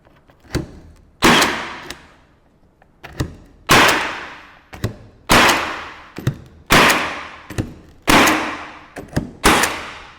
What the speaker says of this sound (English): every time I push down on this and pull the trigger, it'll fire a nail